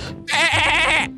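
A goat in Garry's Mod gives one loud, close, wavering bleat of about a second, with nothing else competing.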